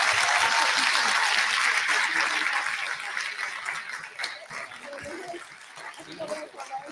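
A live audience at an African Liberation Day gathering applauds a panel of three speakers, steady dense clapping that starts full and gradually thins and softens toward the end, with a few voices faintly audible underneath.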